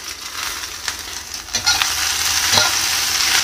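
Chopped tomato, onion and curry leaves frying in a pan for ladyfinger sambar, with a steady close sizzle and occasional stirring scrapes throughout.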